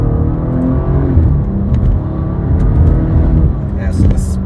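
A BMW M240i pulls hard under acceleration, its engine a loud, steady, close drone from inside the cabin with a slight rise in pitch, and a voice speaks over it.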